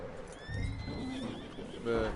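A horse in the video game Red Dead Redemption 2 lets out a short, shrill neigh that rises and falls, followed by a lower snort, with voices talking around it.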